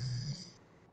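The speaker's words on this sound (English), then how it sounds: "He's snoring heavy, heavy." A man snores heavily in a short, low, rasping breath that fades out, faint and close, with no talking.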